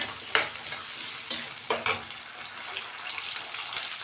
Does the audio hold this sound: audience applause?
no